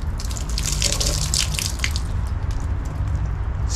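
Running water trickles and drips into an improvised drinking container for emergency water, a steady, close wash of splashing with faint droplet ticks throughout.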